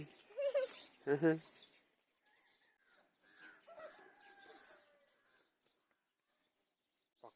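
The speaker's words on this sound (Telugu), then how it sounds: "పక్షుల సౌండ్లు అయితే మాత్రం చాలా ఎక్సలెంట్గా ఉన్నాయండి కోడి కోతలు అవి చాలా బాగుందన్నమాట" Roosters crow and other birds call at a hillside tribal weekly market at Pothavaram in Alluri district. Two loud crows ring out near the start, followed by quieter scattered chirps and clucks with faint background voices.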